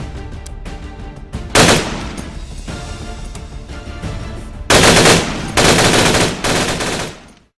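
Bursts of rapid machine gun fire in the video game Ground Branch, short sputters then longer sustained volleys, loud and close, with no talking.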